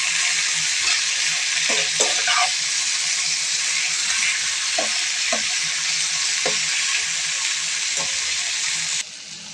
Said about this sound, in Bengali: বাটারের মধ্যে ভাজলে এমনি খেতে ভালো লাগে।